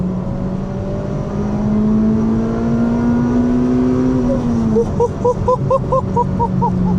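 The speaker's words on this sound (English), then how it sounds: "so that's where VTEC starts kicking in, huh?" An old Honda engine, heard from inside the car, revs up steadily in a rising drone, then its pitch jumps sharply as VTEC kicks in, followed by rapid pulsing gear-change bursts; loud and close, with no talking.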